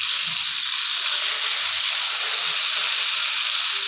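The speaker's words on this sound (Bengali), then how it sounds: "তো মাছগুলো আমার একটু ভাজা হোক, তারপর আমি একটু উল্টিয়ে নিব।" Tilapia fillets frying in hot oil in a pan give a steady, even hiss and sizzle that runs unbroken throughout, with a few faint low knocks beneath and no one speaking.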